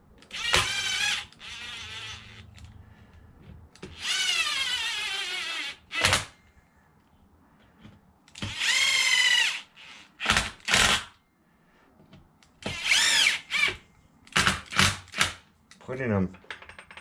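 Bolts tightened during an engine swap on a Losi DBXL RC car: repeated short whirring bursts from a power driver, each a few seconds long, with brief clicks between them, close and clear.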